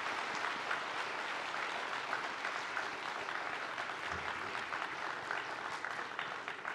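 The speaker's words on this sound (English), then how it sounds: "give our graduates a round of applause for their achievements" At a diploma graduation ceremony, an audience claps for the graduates in an even, continuous applause that sounds fairly distant and soft throughout.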